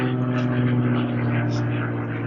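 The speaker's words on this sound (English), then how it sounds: "there goes an airplane" An airplane passes overhead with a steady, loud droning engine hum that holds evenly throughout the brief moment.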